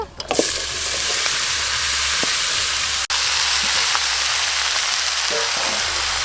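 Chopped bottle gourd drops into hot oil spiced with five-spice seeds, bay leaf and dried red chillies, bursting into a loud, steady sizzle that hisses continuously, with a brief sharp clatter partway through.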